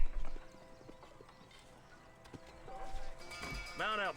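Horse hooves clip-clop steadily in Red Dead Redemption, quiet and rhythmic under background game sound, ending in a loud drawn-out whinny.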